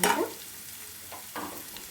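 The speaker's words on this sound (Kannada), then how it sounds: "ಸಣ್ಣ ಉರಿಗೆ ಸ್ವಲ್ಪ ಇದನ್ನು ಚೆನ್ನಾಗಿ ಬೇಯಿಸ್ಕೊಳ್ಳಿ" Tomatoes and onions frying on a low flame for tomato gojju, a soft sizzle with a stir at the start and a couple of brief scrapes later, close and fairly quiet with no talk.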